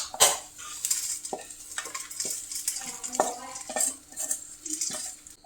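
Fried spices being scraped and stirred out of a pan into a vessel, with repeated metal clinks and scrapes against cookware and a faint sizzle, close and busy, no voices.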